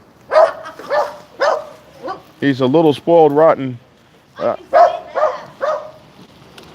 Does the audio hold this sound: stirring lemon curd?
no